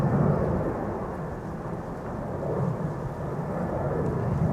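An Aer Lingus A320, 14 years old, passes at Amsterdam Schiphol's Polderbaan runway, a deep, rolling jet engine rumble that swells and eases slightly while staying steady and fairly loud.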